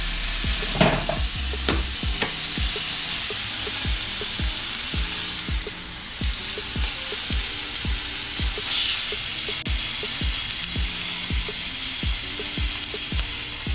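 Ahi tuna sears in a hot cast iron pan with a steady loud sizzle, punctuated by a regular series of sharp popping crackles throughout, with no voices.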